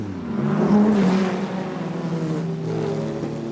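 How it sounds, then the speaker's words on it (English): The number 29 race car at Le Mans in 1998 fires up and accelerates away into the night, its engine note climbing loudly through the gears before easing off as it pulls into the distance. "The 29 car fired up and blasts back into the night."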